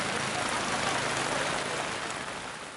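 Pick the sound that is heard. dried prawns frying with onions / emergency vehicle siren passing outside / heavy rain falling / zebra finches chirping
heavy rain falling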